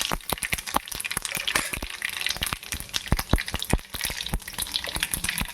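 Mustard seeds, fennel and asafoetida tempering in hot oil give a steady sizzle broken by sharp, irregular crackles and pops from the seeds, close and fairly loud, with no talking.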